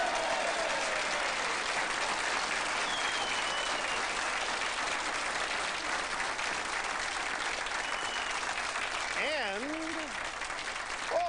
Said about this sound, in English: Listen to this applause.